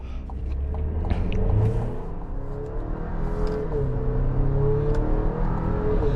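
A 2026 Chevy Traverse RS AWD with a 2.5-liter four-cylinder accelerating from a stop and through a corner, its engine note rising and shifting under a steady interior road hum.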